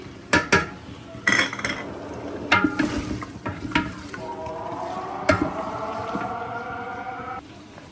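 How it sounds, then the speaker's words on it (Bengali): Spiced beef sautéing in a wok, with several loud metal clanks and scrapes of a spatula against the pan, followed by a steady sizzle toward the end. "এই তো মাংসটা কষানো হয়ে গেছে কড়াই"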